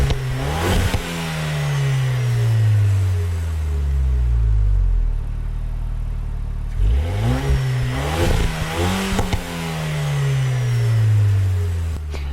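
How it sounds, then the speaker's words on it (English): A car engine in the Gran Turismo racing game revs up and down repeatedly, with rising and falling engine tones through several gear shifts, a brief lull near idle midway, then more hard acceleration, loud and close with no talk. "Now, I have to be honest, the car doesn't sound that bad."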